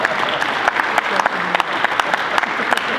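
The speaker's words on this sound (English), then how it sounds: "let's give them a round of applause" A crowd at an event with a governor at Knox Central bursts into sustained applause, close and fairly loud, with individual sharp claps standing out and some voices mixed in beneath the clapping.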